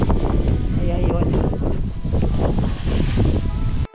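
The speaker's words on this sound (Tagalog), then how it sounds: "Lakas ng hangin." Strong gusty wind buffeting the microphone in loud, rumbling waves, with a voice partly buried beneath the roar.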